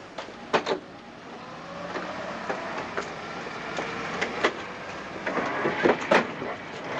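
A passenger train runs along the rails in a 1946 film scene: a steady, rumbling rolling noise with scattered sharp clanks and rattles, fairly loud and continuous, with no talk over it.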